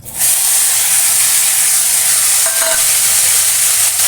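Panch phoron spices sizzle in hot oil for an aloo chorchori potato dish, a steady loud hiss running throughout with a brief stir partway through, no voices.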